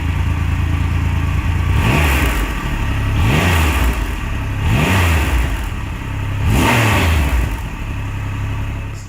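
A Triumph Rocket III motorcycle with its stock exhaust is revved four times over a steady idle, each blip a loud, close swell of engine note that quickly falls back to the deep rumble.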